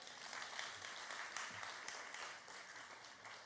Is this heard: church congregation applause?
yes